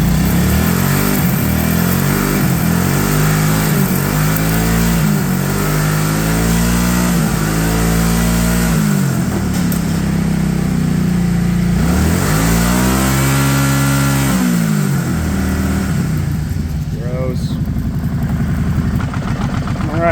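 An abandoned Kawasaki Prairie 650 ATV engine, its airbox packed with a mouse nest, runs loud and close, revving up and down in repeated rising and falling surges before settling toward a steadier idle.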